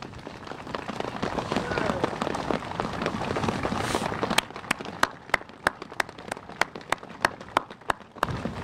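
An outdoor Veterans Day crowd at Arlington applauds Korean War veterans, broad clapping that fades into a few sharp, isolated claps near the microphone, with faint voices mixed in.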